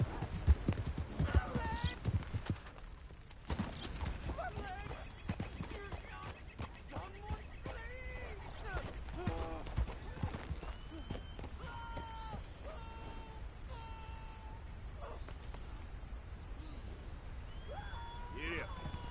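Horse hooves clip-clopping in Red Dead Redemption 2, a soft ongoing rhythmic trot under frequent talking from a player.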